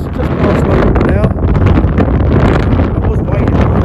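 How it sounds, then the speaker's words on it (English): Strong wind buffets a microphone on a Bristol Channel beach at Minehead, a loud continuous roar of gusts and rumble with voices faintly audible underneath. "I'm sorry about the wind, there's not much I can do."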